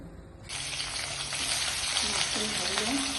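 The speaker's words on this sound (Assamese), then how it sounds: "এতিয়া মাছ কেইপিচ মই ভাজি ল'ম ইয়াত।" Fish pieces hit hot oil in a pan and start a loud, steady sizzle that continues evenly, a little talk faintly underneath.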